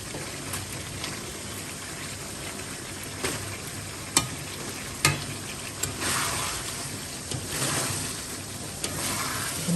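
Chicken stir-fries in a pan as its own released water cooks away, giving a steady soft sizzle broken by occasional clinks and scrapes of a spatula, fairly quiet and close.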